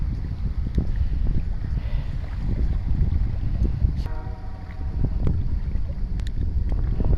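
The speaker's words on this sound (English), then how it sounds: "So the wind is not blowing in my favor to cast" Wind gusts buffet the microphone while fishing on open water, a constant low rumble with occasional clicks and rattles, no voices.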